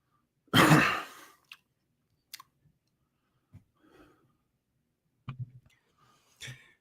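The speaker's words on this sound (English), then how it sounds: "I got to do a big cough 1 second." One loud cough near the microphone, followed by scattered faint clicks, breaths and small throat noises in an otherwise quiet room.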